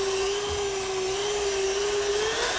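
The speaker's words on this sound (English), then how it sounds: "Cut it into long sticks, and we'll grind it up right away." An electric meat grinder works through long sticks of pork shoulder, its motor holding a loud, steady whine for the whole stretch with no one talking.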